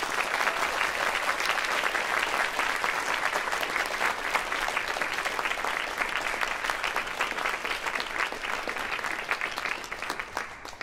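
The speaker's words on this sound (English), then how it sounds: "please give a huge round of applause to the Rozsa staff and crew" A theater audience at a Michigan Tech video game jazz ensemble concert gives the staff and crew a sustained, steady round of applause, dense and even from start to finish.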